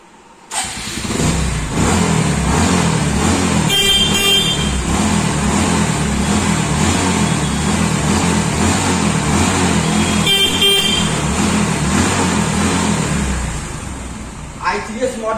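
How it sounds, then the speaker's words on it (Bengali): A 2020 Hero Super Splendor i3s motorcycle in showroom condition starts and settles into a steady, close single-cylinder idle. It is briefly blipped twice, and a voice talks over it. "গাড়িটা স্টার্ট দিয়ে আমার ভিউয়ারদের দেখিয়ে দিচ্ছি সাউন্ড কোয়ালিটিটা"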